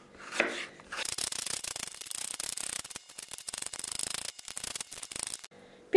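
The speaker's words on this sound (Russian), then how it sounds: "Для начала нам нужно порезать перчик." A knife chops bell pepper into thin strips on a cutting board, producing a quick, steady run of crisp cuts close by after a single initial knock, with no talking.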